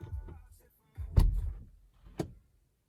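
A 2018-2020 Honda Accord door unlatches with a sharp clunk, followed by thuds and a second click; a low engine-like rumble fades out.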